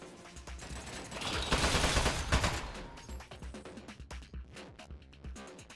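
Rapid turret gunfire in the video game Aperture Desk Job, a dense loud burst of shots swelling in the middle then breaking into scattered clattering bangs and impacts, with no talking.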